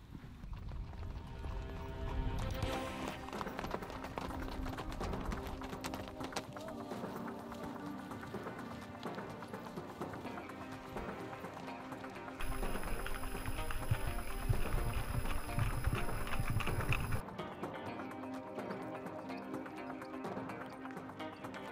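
Horse hooves clip-clopping on a junior endurance ride championship course, a steady rhythmic run of hoofbeats heard alone, moderately near and even throughout, with a brief higher-pitched layer joining midway.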